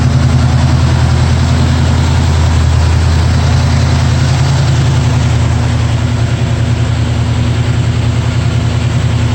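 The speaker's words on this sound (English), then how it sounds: "Running on a little bit of a fast idle right now. It's started cold" A 1970 Camaro RS350 V8 sits on fast idle just after a cold start, with a loud, steady, throbbing low rumble and an even beat that holds throughout, close and alone with no talking.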